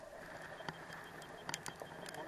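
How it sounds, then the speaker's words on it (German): Rain patters during a boat fishing trip in Neustädt Bay, a soft steady wash broken by scattered sharp drips and taps. "Regen, Regen, Regen."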